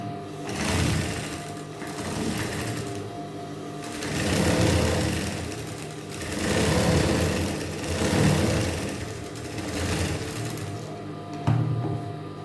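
A sewing machine stitching fabric up close, its fast mechanical chatter swelling and easing in repeated bursts over several seconds, with a brief knock near the end.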